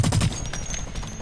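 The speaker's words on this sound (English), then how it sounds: "Oh no! Bomb!" A bomb goes off in the online shooter Blacklight: Retribution: one abrupt, heavy burst at the start, then a rumbling, crackling tail under scattered gunfire.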